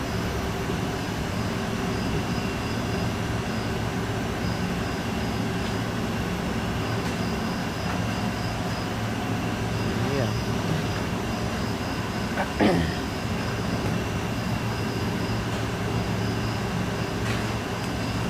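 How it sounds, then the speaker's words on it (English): Canadian National 3254, a 2-8-2 Mikado type steam locomotive at Steamtown in Scranton, Pennsylvania, gives off a steady low rumble with a faint high hiss and one brief clank, heard alone at a moderate distance with no talking. "that's Canadian National 3254. It's a Canadian National 282 Mikado type."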